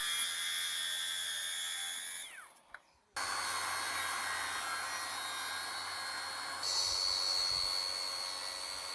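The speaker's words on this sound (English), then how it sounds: "I usually use 2 circular saws for flooring installation." Circular saw cutting flooring boards during installation in an old house, a sustained high motor whine that spins down and stops, then restarts and runs on, rising in pitch partway through.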